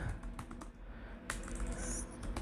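Rapid keystrokes on a computer keyboard while text is entered into an Excel spreadsheet, a steady run of soft close clicks with a few louder taps.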